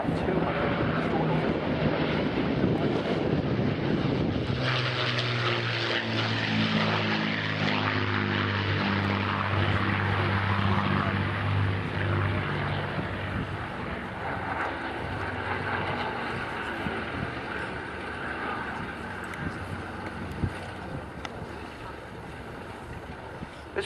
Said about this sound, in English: So from the left then, as the Lancaster runs in